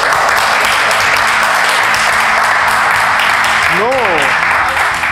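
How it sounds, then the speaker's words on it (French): Sustained applause from a live audience at an African quiz-show grand final, loud and steady throughout, with a brief voice rising over the clapping near the end. "je voudrais qu'on fasse un point d'applaudissement pour"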